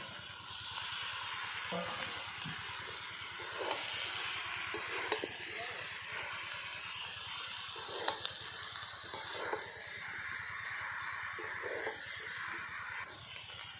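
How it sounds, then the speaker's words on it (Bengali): Steamed jackfruit and potatoes cooking in a spice masala for an echor chingri dish, a steady soft sizzle with occasional stirring scrapes throughout, fairly quiet and close, with a little talk in places. "এখন দিয়ে দেবো ভাপিয়ে রাখা ইঁচড় আর আলু।"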